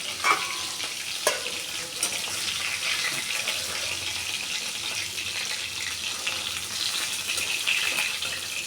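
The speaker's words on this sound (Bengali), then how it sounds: "এইভাবে লাল করে মাছগুলো ভেজে নিতে হবে" Snakehead fish frying in hot oil, a steady close crackling sizzle with a few sharper pops and spatters throughout, no talk.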